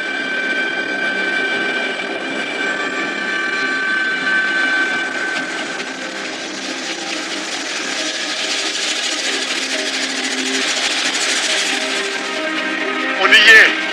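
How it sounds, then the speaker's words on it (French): A helicopter flying through Nepal's Annapurna massif gives a steady, loud cabin drone with a high turbine whine that holds for the whole stretch, ending in a short louder bump. "L'hélico nous dépose à 4200 mètres d'altitude, en plein cœur du massif de l'Annapurna"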